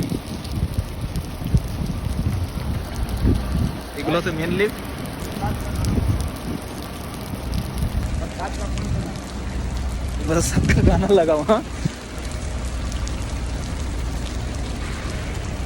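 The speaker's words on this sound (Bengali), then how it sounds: "অনেক জোরে বৃষ্টি চলে এসেছে দেখেন কেমন জোরে বৃষ্টি চলে" Heavy rain falling at a worksite in Hafr, Saudi Arabia, a steady broadband wash throughout with people talking over it and some nearby clatter.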